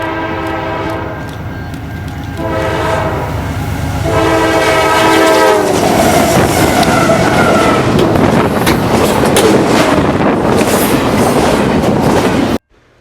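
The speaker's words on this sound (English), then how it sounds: "our first train would be NS 9712 East with hot stacks." Norfolk Southern 9712, an eastbound double-stack intermodal train, passes on the Chicago East Side: a loud horn blast gives way to a heavy, close rumble with rhythmic clickety-clack that runs until the recording cuts off.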